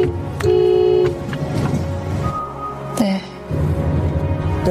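A car horn honks in a film scene, with a long steady blast early on and shorter toots later, sounding fairly close and loud over a rumbling background with scattered noises.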